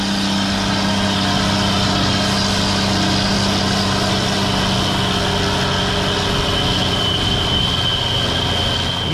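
A Kirovets K-7 428-horsepower tractor's heavy diesel engine roars continuously and loudly, with a deep rumbling drone and steady mechanical noise throughout.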